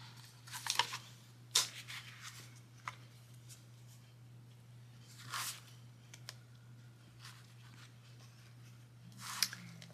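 Paper is cut for a Christmas junk journal, with a few sparse, sharp snips and crisp rustles spaced apart over a low steady hum.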